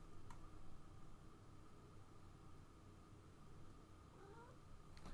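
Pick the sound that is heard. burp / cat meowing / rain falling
cat meowing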